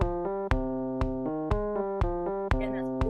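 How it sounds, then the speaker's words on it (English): A GarageBand dance beat with a four-on-the-floor bass drum striking evenly on every beat, about twice per second, over sustained synth chords, with a brighter hit near the end. "Then 4 on the floor is when we just keep that bass drum 1,"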